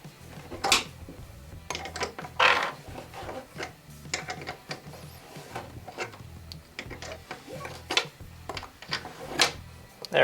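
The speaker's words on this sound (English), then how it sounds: "so we'll go back in with the wrench and just loosen this." A wrench works on a stuck fitting of a Ryobi 18-volt ONE+ P4001 drain auger, producing irregular close clicks, metallic knocks and ratcheting clatters spread across the span with no talking.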